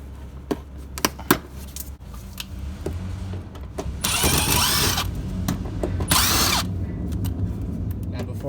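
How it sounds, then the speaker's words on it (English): A power screwdriver backs Phillips screws out of the fender of a 2004–2015 Nissan Titan during exhaust manifold work, with a few sharp clicks followed by two loud, sustained whirring bursts close by. "then we're going to take off the Phillips screws and completely take out this fender"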